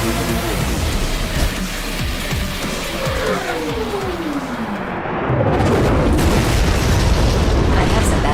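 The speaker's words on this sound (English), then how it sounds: "The transport aircraft waiting at the extraction point has just been destroyed." A transport aircraft explodes in a mech action game with a dense, roaring blast and crackle. Thick low booms rumble under a loud, noisy wash, and the explosion grows heavier partway through.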